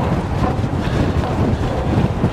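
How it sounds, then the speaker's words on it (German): Strong wind buffets the microphone during an e-bike ride on a hilltop near Strasbourg, a loud, continuous roar with no talking. "Glaubt man gar nicht, dass es so windig geworden ist"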